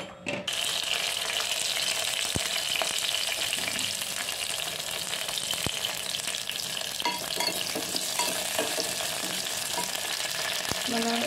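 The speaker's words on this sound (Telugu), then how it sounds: "ఒక సెరవ తీసుకొని అందులోకి కొన్ని పచ్చిమిర్చి, కొంచెం ఆయిల్ వేసి పచ్చిమిర్చి వేయించుకోవాలి." Green chillies fry in a small amount of oil in a pan, a dense, bright sizzle running continuously with occasional sharp pops and a few stirring clicks.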